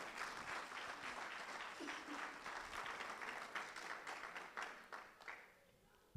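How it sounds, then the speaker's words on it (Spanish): A church congregation at a night vigil offers steady, dense applause to the Lord, holding for several seconds before tapering off slightly toward the end. "Yo le daría una ofrenda de aplauso al Señor porque soy hijo"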